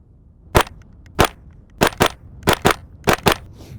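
A KRISS Vector Gen 2 fires eight sharp, loud shots in quick pairs and singles, each report crisp and close with brief gaps of quiet between.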